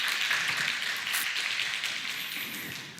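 Church congregation applauding to bless a newborn's family, a soft, continuous patter of many hands clapping at a distance for a few seconds.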